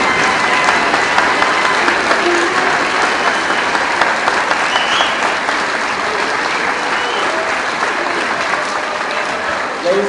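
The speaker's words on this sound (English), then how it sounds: "Audience, please join me in a most appreciated round of applause for these exceptional and superior young musicians." An audience at a 7th-grade school winter concert claps for the young musicians, sustained and full throughout with crowd noise mixed in.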